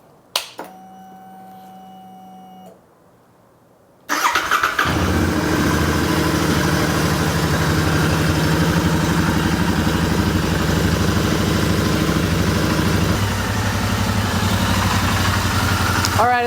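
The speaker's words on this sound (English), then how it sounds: "So I'm gonna turn it on and let it run for a little bit." A Royal Enfield Interceptor 650 motorcycle on its center stand starts up and settles into a steady, loud, close idle that runs on for over ten seconds, after a short stretch of a quieter tone with a gap before it.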